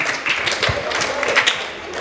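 Brief applause from an audience at a school tribute event, a steady patter of clapping hands lasting a couple of seconds with no voices over it.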